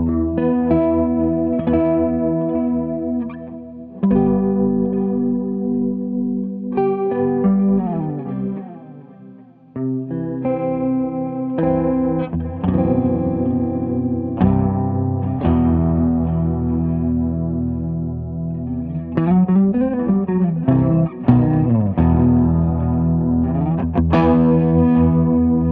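A Schecter Banshee GT FR electric guitar on its neck pickup, with heavy distortion and chorus effects, plays metal chords and riffs continuously, loud and close, with brief pauses between phrases.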